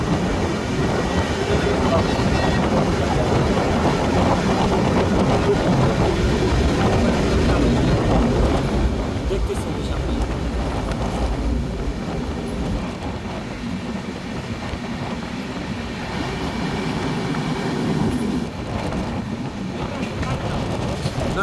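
A train rolls past near the Mawa highway on the Padma Bridge route, a loud, continuous rumble and rattle of wagons that swells and eases slightly over time, with someone talking faintly beneath it.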